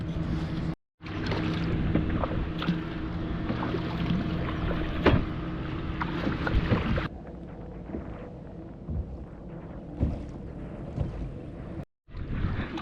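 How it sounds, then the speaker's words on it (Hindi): A kayak moving over the sea, with close, loud watery rushing and paddle splashes over wind noise that drops to a quieter, gentler lapping for the second half, broken by two brief silent cuts. "तो मुझे 20 मिनट अभी कायाकिंग करना पड़ेगा वहाँ तक पहुँचने के लिए।"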